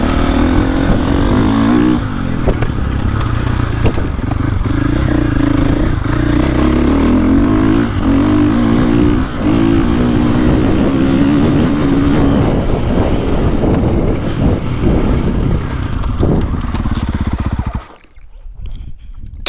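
A 2024.5 KTM 450 Factory Edition or a 2024 Husqvarna FC350 dirt bike rides hard for a long stretch, its engine droning and revving loud and close with clattering, then cutting out abruptly near the end.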